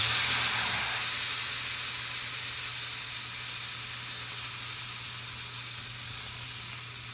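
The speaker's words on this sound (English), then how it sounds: "we're gonna put the pork chops in here to sear" A thick-cut pork chop hits a smoking-hot cast iron skillet with a loud burst of sizzle that settles into a steady, slowly fading hiss, with no one talking.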